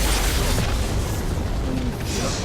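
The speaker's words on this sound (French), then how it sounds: "détruit une tourelle" A turret is destroyed in League of Legends with a loud booming explosion, a dense burst of rumble that fills the short span, with faint talk mixed underneath.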